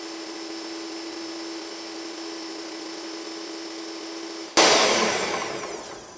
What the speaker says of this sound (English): I'm going to put the mixer up really fast, just for 30 seconds,